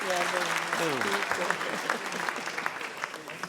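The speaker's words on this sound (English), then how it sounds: "Can you clap hands again?" An audience at an Emalahleni Local Municipality gathering claps in a continuous, fairly loud wash, with a voice speaking over the first second or so.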